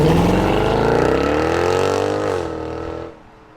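A car engine revs hard as it pulls away from a green light, a loud, close, steadily rising roar that holds strong before easing off near the end.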